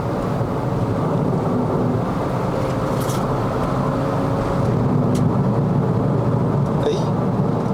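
A 2011 Honda Civic FD 2.0S on a Malaysian test drive gives a loud, steady engine and road roar from inside the cabin as it downshifts into a corner, with a few faint clicks.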